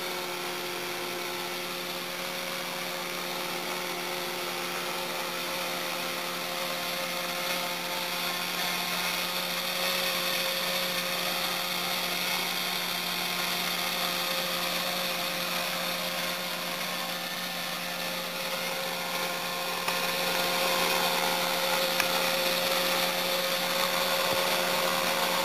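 A small model helicopter hovers on Hover-EZE training tethers with a student at the controls, making a sustained high-pitched whine of rotor and motor that stays steady and close for the whole stretch, with no talk.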